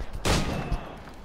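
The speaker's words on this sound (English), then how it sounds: "I'm shooting everyone I see today." One loud close gunshot with a sharp crack and a booming low tail, followed by a fainter second thump.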